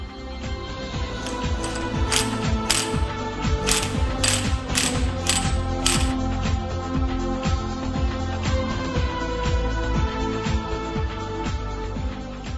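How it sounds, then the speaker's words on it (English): Ratchet wrench clicking steadily while a special nut and Allen bolt on a Pulsar 200cc motorcycle engine's primary driver gear are tightened with special holder tools, a dense run of close mechanical ticks and metallic clinks throughout. "Tighten the special nut to the specified torque as shown."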